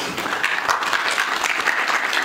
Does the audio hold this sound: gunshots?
no